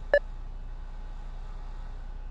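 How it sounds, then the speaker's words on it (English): A single short electronic beep from a beacon in a Backrooms video game, sharp and clear against a low, quiet ambient hum. "That's what the beeping is."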